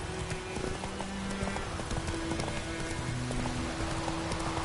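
Horse hooves clip-clopping at a trot in The Witcher, an even, steady beat up close, with steady rain pattering and a faint whinny underneath.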